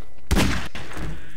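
A single sharp gunshot from Leon's weapon in a Resident Evil Village GMod game scene, a loud close blast followed by a brief rumbling decay.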